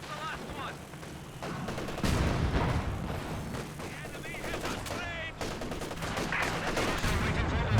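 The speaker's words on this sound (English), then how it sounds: "Looks like his Katyusha firing has not gone well still." Katyusha rocket barrage in Company of Heroes 2, a dense, continuous rumble of launches and impacts at steady loudness throughout, with other battle noise and a voice speaking over it.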